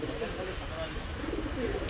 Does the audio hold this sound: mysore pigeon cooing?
yes